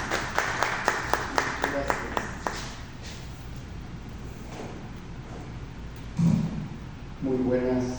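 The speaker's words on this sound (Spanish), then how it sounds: "Un aplauso para darle la bienvenida al doctor Gerardo Castro" An audience at a lecture on Ecuador's Manteño culture claps to welcome the speaker, a burst of sharp, irregular handclaps that thins out after a few seconds into quiet room noise with a few thumps.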